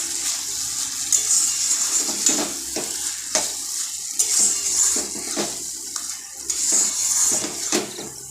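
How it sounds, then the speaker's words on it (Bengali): Cabbage sizzles and fries in a pan while being stirred, a steady close frying hiss broken by repeated scraping strokes of the spatula. "এবার এর মধ্যে আমি ওই বাঁধাকপিটা দিয়ে দেব দিয়ে এটাকে ভালো করে নাড়াচাড়া করে কষিয়ে নেবো"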